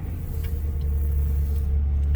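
A Ford Crown Victoria P71 Police Interceptor drives along with a steady low engine rumble and road drone from inside the cabin, constant and fairly loud, with a brief hiss near the end.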